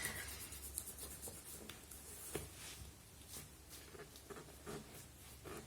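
Hands rub the feet back and forth vigorously to warm the toes, a soft, close, continuous brushing friction with faint rhythmic strokes, quiet throughout.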